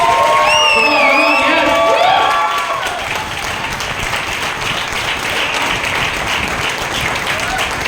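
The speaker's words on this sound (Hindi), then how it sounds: "इनके लिए एक बड़ी जोर से ताली बजा देंगे।" Church congregation applauding for a pastor, starting under cheering, whooping and a voice over the crowd, then settling into steady clapping that continues at a slightly lower level to the end.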